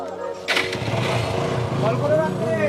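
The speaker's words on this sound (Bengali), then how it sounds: "মোটরসাইকেলের আওয়াজ কেন রাস্তায়?" A motorcycle engine on a road revs up and runs with a buzzing, sputtering drone, fairly close, as people talk over it.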